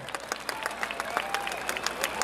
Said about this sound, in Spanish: ¡Que se escuche el aplauso fuerte!